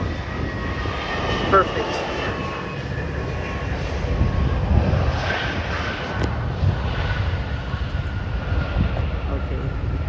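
A JetBlue Airways Airbus A320 landing at San Juan airport gives a steady, distant jet engine roar that swells slightly midway, with a person speaking briefly over it.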